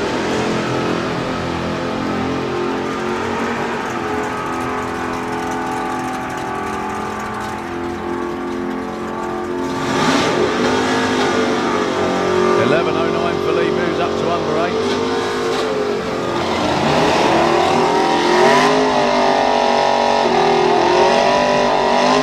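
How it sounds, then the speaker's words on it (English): Drag racing engines of a Plymouth and a Valiant roar loud and steady at a drag strip, swelling and revving over a continuous bed of crowd and track noise while a commentator talks. "just listening to those engines screaming away there"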